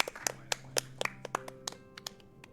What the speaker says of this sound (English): last round of applause